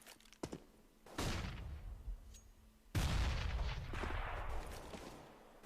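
A grenade blast in Counter-Strike during a Titan vs LDLC.White match, heard as a couple of heavy booming bursts with rumbling tails, loud, with sharp clicks and thuds in between.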